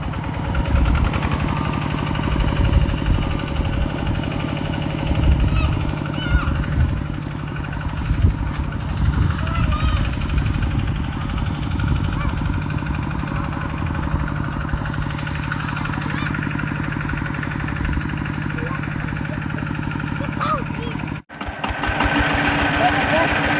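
A four-gear farm tractor engine chugs steadily at close range throughout, with a brief dropout near the end before it picks up again.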